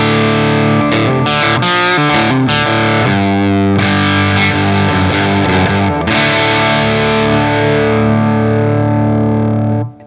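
A distorted electric guitar plays through a tube amp's second channel on the bridge pickup, with mids heavily boosted; quick chords and riffs ring out loud and close, ending on a long sustained chord, with no voices.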